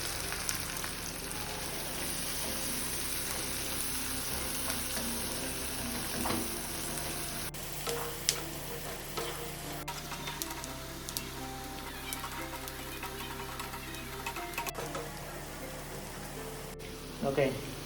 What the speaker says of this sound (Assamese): পিঁয়াজখিনি ভাজি ল'লোঁ